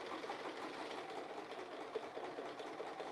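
A sewing machine stitches a quilt panel with a fast, even whir and faint rhythmic ticking, quiet and steady throughout with no voices.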